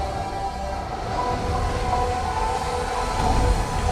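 A subway train rumbles through a tunnel in a movie trailer, a steady low roar of rolling wheels and rail noise swelling slightly toward the end, with no voices.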